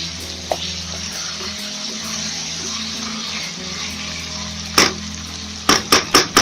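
Diced potatoes frying together with chicken in a pan for chicken with capsicum, a steady loud sizzle running throughout, with a few sharp utensil knocks near the end.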